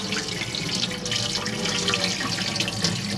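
Hot water runs from a tap in an Auto Trail Apache 700 motorhome with the pump on, a steady close hiss of flowing water that lasts throughout.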